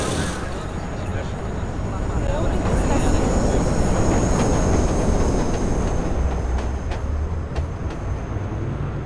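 Train pulling into a station in the open-world game Watch Dogs, a steady loud rumbling roar of rail cars that builds and holds throughout with faint high squeals, while a station announcement voice speaks.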